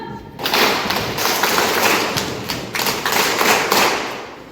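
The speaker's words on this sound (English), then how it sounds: "Very good. Clap 1." A large group at a youth program event claps together, one loud sharp burst that trails into scattered, uneven claps lasting several seconds.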